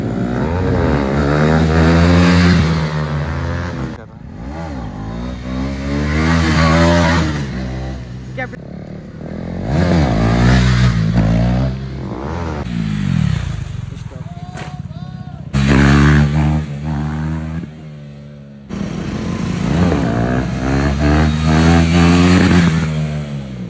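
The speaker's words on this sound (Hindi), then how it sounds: "तो भाई अब दोनों जा रहे हैं तो अब लास्ट व्हीली तो मारते हुए जाएंगे ही दोनों।" Motorcycles rev hard as riders pull wheelies in a public street stunt session, loud engine roars rising and falling in repeated bursts with harmonic whine, near and dominant with brief drops between passes.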